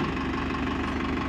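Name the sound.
Farmtrac 6055 tractor engine idling during PTO demo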